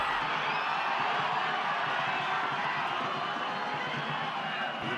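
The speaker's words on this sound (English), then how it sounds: "The crowd loving it in Rizal." A football crowd at Rizal Memorial Stadium during a SEA Games match keeps up a steady, distant roar of cheering and chatter, with no single voice standing out.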